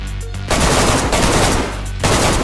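Automatic gunfire in DayZ rattles out in two dense, loud, close bursts, with a brief pause between them.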